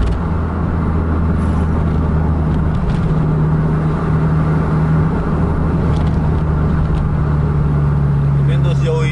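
An Armada Indah bus with a Mercedes-Benz engine cruising on an Aceh road: a loud, constant low engine drone with a steady hum, heard from inside the bus, with faint road noise throughout.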